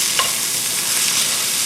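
Flour stirred into onions in a pot for French onion soup, a steady close sizzle and frying hiss with a faint scrape of the spoon at the start.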